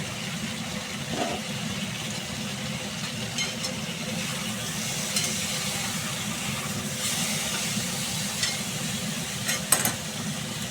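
Potato and raw banana frying in a pan, heard as a steady, moderate sizzle with a low hum underneath and occasional faint clinks.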